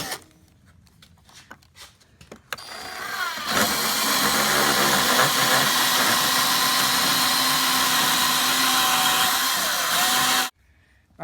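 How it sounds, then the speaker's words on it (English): A cheap handheld drill with a carbide bit cutting into a Honda CRF250L motorcycle airbox, spinning up after a few quiet handling sounds into a steady, loud, close high whine that runs several seconds before stopping abruptly. "you can use what I got, a cheap drill and a carbide bit"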